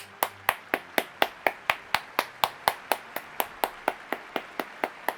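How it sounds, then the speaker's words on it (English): A steady run of sharp claps, about four per second, evenly spaced and fairly close, with no voices over them. "Round of applause to everyone who joined in."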